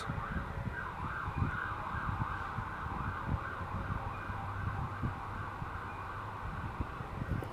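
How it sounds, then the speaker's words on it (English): Fire truck sirens wail continuously while crossing a bridge, a steady rising and falling tone heard from some distance over a low rumble of road traffic, with no talking. "they have to blast their sirens the entire way across that bridge"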